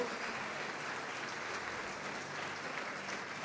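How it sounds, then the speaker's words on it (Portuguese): A church congregation claps for Jesus during a worship service, a faint, even wash of distant applause held at low level throughout, ending in a brief loud knock. "pode aplaudir Jesus e glorificá-lo."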